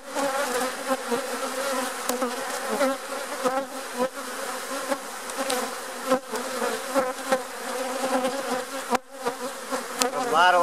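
A dense swarm of honeybees hums steadily around an open beehive while frames are being handled, a close, continuous drone with individual bees flying past.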